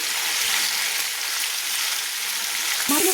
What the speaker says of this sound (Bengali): মাছের মাথার টুকরোগুলো একসঙ্গে ভেজে নিচ্ছি।